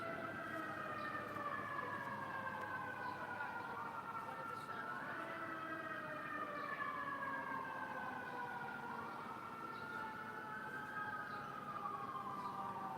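A wailing emergency siren rises and falls repeatedly outside a courthouse during a trial, heard from a distance at a steady level with faint background noise.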